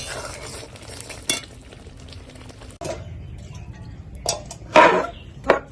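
Semolina stirred with ghee in a pan for a sweet dish: a spoon scrapes and clinks against the metal in irregular strokes, with a few louder knocks over a soft background, and no talking.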